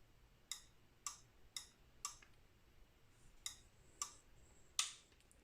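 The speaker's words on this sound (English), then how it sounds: "one can hear several of these relays clicking on and off" Sharp mechanical clicks of relays in a vacuum furnace controller snap at irregular intervals, about eight in all, crisp and close against a quiet hum, the last one louder.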